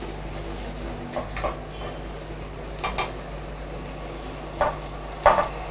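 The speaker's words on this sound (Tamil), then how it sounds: "இப்போ வந்து நம்ம சாதத்தை போட்டு மிக்ஸ் பண்ணிக்கலாம்" Cooked rice gets mixed with pepper powder in a pan: a few soft, spaced scrapes and taps of a spoon against the metal over a steady low background hum.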